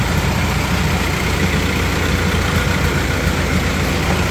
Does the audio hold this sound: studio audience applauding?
no